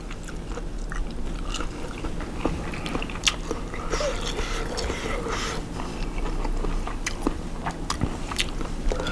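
Someone chews close to the microphone on a glass noodle salad with minced pork and skin-on pork sausage, making steady, moist crunching and biting sounds throughout.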